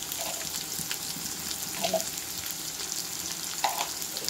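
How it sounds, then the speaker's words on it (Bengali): Vegetables and potatoes fry in a pan for a vegetarian lunch, giving a continuous close sizzle broken by a few soft stirring clinks and scrapes. "এটা ভাজা হয়ে গেছে মনে হচ্ছে।"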